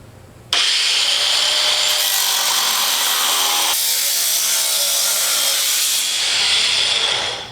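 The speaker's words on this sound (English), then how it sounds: "I've got a battery powered grinder. It'll just be quicker." Battery-powered angle grinder cutting metal for a DIY film shelf: a loud, close, continuous high-pitched grinding that starts abruptly and holds steady for several seconds before tapering off at the end.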